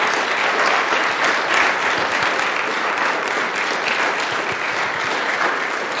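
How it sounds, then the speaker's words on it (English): Steady, dense applause from a church congregation fills the whole stretch, close and loud with no pauses. "Yeah, go ahead and clap."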